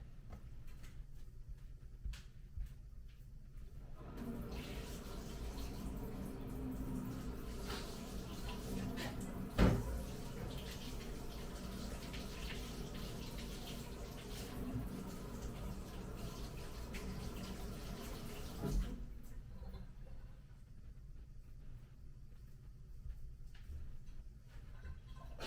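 An Aeropress coffee maker is rinsed under a kitchen tap, with running water holding steady for about fifteen seconds between quieter stretches, marked by a sharp knock near the middle and soft handling clatter.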